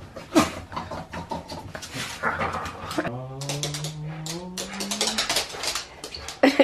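A dog whimpering and panting close by, with rhythmic breathy pants and a drawn-out whining whine in the middle, amid light clicking noises.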